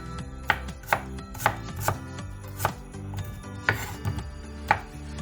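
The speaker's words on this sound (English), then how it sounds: "That's the reason why I cut a lot of onion" A knife chops onions for a Christmas party, its blade striking the cutting board in steady, evenly spaced thuds about twice a second, close and clear with no talking.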